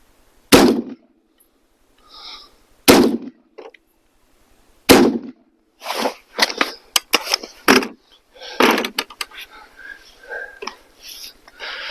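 Self-defense rounds fired into sheetrock from an AR rifle, with sharp, loud gunshots spaced a couple of seconds apart, then quicker clustered shots and clanks as people murmur softly between them.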